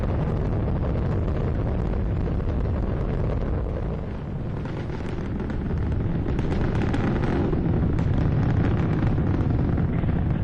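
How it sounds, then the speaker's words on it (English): Space Shuttle Discovery's main engines roar during ascent on the STS-120 launch, a continuous loud, rumbling wash with gusty, crackling texture that holds steady throughout and has no talk over it. "Discovery's engines are throttling down as the orbiter passes through the area of maximum pressure on the vehicle."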